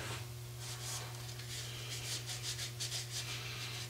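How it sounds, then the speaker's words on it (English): Soft continuous rubbing of a cloth soaked in denatured alcohol along an edge during a vacuum repair, brushing strokes repeating over a steady low electrical hum, close and fairly quiet. "take some denatured alcohol to the edge, just make sure that there's no leftover Super 77 on there"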